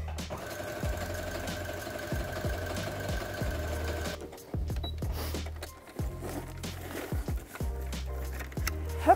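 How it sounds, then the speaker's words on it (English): A sewing machine zigzag-stitches around the edges of a fabric poncho, running in steady rhythmic bursts with brief pauses between runs, close and fairly loud with no talking. "I'm just gonna take a zigzag stitch all the way around so that it doesn't come undone."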